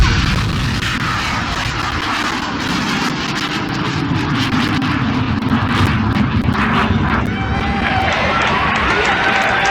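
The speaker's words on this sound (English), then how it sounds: "And we're going in 10, 9, 8, 7, 6, 5, 4, 3, 2, 1, ignition!" A rocket launched in Central Park, New York City, during a comedy TV bit gives a sustained, loud, broadband roar after ignition, mixed with crowd noise.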